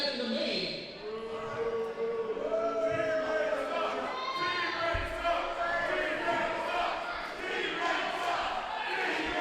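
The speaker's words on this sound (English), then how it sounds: "The crowd, as always, just super behind team ratings." A wrestling crowd at an independent show cheers and shouts in waves, a dense mid-level roar with a few sharp thuds from the ring, while commentators talk over it.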